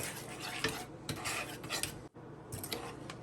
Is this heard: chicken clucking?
no